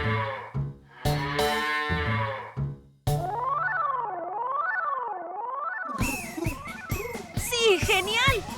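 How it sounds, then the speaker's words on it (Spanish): Cartoon cow mooing in a children's animal sound game, a long wavering moo following a voice and chimes, then bright music takes over. "Es el sonido que hace una vaca."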